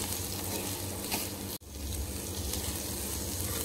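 Chili masala fries in a pan with a steady, dense sizzle that continues throughout, broken by one brief drop near the middle.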